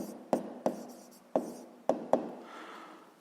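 A pen writes out a sixth-grade math exercise solution, making five crisp tapping strokes on paper at uneven intervals. The sound is close and quiet, followed by a short, faint scratch.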